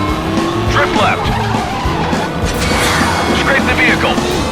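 Tires skid and squeal loudly as a car drifts in Stuntdrive Ignition, the engine roaring close throughout, with spoken driving instructions layered over the screech.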